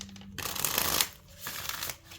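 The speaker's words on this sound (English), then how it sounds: "Let's shuffle again." Tarot cards being shuffled by hand, a close, steady papery riffling and sliding that swells and fades in two passes, with no talking.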